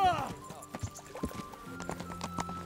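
Horses gallop in the medieval video game Kingdom Come: Deliverance, hooves clip-clopping in a quick rhythm after a short whinny, with game music and some voices underneath.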